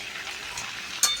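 Potatoes and snake gourd frying with salt and turmeric, a soft, brief sizzle with a light clink of a spatula against the pan near the end.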